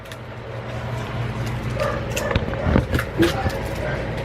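A small dog indoors gives a few yips, whimpers and short barks over a low background hum while people talk nearby.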